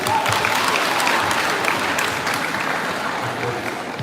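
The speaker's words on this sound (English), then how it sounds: "Let's give it up for them." Dense, steady applause from a seated audience at a high school debate contest, many hands clapping at once for about four seconds with a loud, even wash of sound and no clear pauses.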